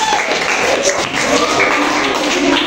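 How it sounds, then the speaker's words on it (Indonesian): Students in an Indonesian primary classroom applaud a classmate during a Pancasila lesson, giving dense, steady clapping at close range with faint voices mixed in. "Tepuk tangan buat Mbak Aisyah"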